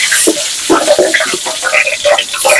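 Cinnamon and bay leaves sizzle and crackle in hot oil for pulao, with loud, uneven bursts of spitting and popping.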